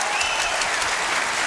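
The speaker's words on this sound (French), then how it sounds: "Applaudissements pour Christiane Aureli, mesdames et messieurs" Studio audience applause on a French television variety show, a dense, steady wash of clapping heard alone for the whole stretch.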